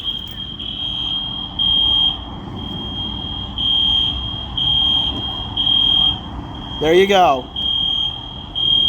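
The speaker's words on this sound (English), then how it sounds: "exploring what the fire alarm is going off for at this abandoned building" A fire alarm in an abandoned school beeps in a regular on-off pulse, loud and shrill, close by, while a person speaks briefly and a short sweeping electronic chirp cuts in near the end.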